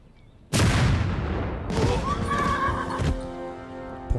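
In the video game Total Tank Generals, a horse whinnies loudly after a sharp, sudden blast, with a second burst of battle noise and a long, fading neigh ringing out close and clear.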